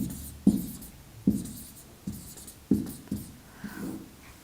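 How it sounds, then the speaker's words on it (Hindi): Chalk or marker strokes writing a word on a classroom board during an ethics lesson: several short, sharp taps and scrapes in an irregular rhythm, close and fairly clear, with no talk over them. "यहाँ पे हम एक और बात समयबद्धता लिख देते हैं"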